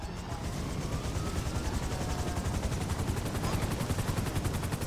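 A helicopter flying in the GTA 5 video game during a coast guard rescue mission gives a loud, steady, rapid rotor chop with a broad engine roar that continues without a break.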